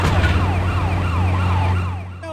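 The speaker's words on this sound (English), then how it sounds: "the police sirens is all in the middle of me trying to read" Police car sirens wail in the video game GTA Chinatown Wars, a loud rising-and-falling electronic siren cycling steadily over a low engine hum, fading near the end.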